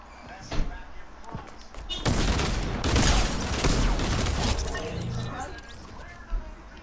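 Gunshots in a shooter game, a sharp isolated bang followed by a dense, loud stretch of firing and impacts lasting a few seconds, with someone talking excitedly over it.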